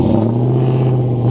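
Hellcat-swapped Jeep Gladiator engine revving up close, a loud, steady deep throaty roar with low rumble held for about a second.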